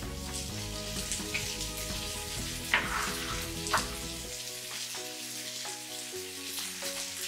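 Garlic, green chillies and ginger fry in a pan for a Kerala-style chicken curry, giving a close, continuous sizzle with a couple of louder crackling bursts.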